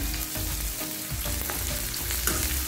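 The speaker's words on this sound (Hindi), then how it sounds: "अभी हम प्याज को फ्राई कर लेते हैं" Finely chopped onions, two large ones, fry in leftover oil in a karahi, a steady close sizzle with light stirring scrapes and no talk.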